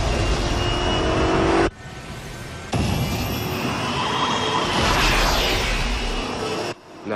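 Ryu's F-Zero racing machine drifting in practice, a loud sustained high-speed engine roar with whooshing shifts and brief drops, close and continuous.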